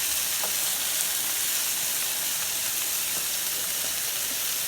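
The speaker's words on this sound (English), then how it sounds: "It cooks off and steam right up off of there." Red wine and onions sizzle and steam in a hot pan, a steady dense hiss with faint crackles, close and continuous throughout without speech.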